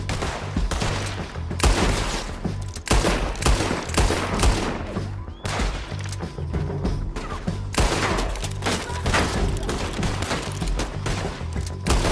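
Dense, continuous gunfire from a shootout in the Western video game Red Dead Redemption 2, with rapid overlapping shots and explosive bursts filling the whole stretch at high loudness, and no pauses.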